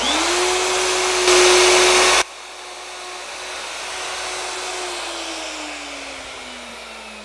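A plunge router cuts a mortise slot in wood with a loud, steady motor whine, heavier while the bit is engaged for the first two seconds, then a lighter running hum that slowly drops in pitch as the motor winds down.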